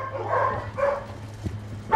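Dogs at an animal shelter for strays in Évry bark and whimper in a few short, moderately loud bursts, with a sharper yelp near the end over a low hum.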